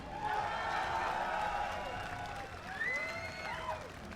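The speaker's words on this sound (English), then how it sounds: "Give them a round of applause one more time." At the PAX Australia 2013 League of Legends final, the crowd claps and cheers in a broad, distant wash of applause, with a host's voice calling out over it.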